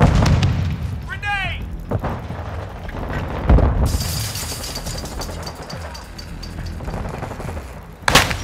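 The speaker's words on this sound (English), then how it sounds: "Grenade!" A grenade going off in Call of Duty: Modern Warfare II, a deep booming blast amid ongoing gunfire and battle noise, with soldiers' radio-style voices calling out over the combat.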